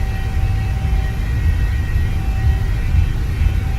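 A PMDG Boeing 737-600 spools up to full takeoff thrust in Microsoft Flight Simulator 2020, a loud, steady, deep engine roar with constant rumble filling the cabin, no voices over it.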